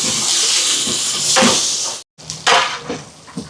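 Onions with green chillies sizzling in a hot pan, a steady loud hiss with brief surges and a short silent gap midway, no talk over it.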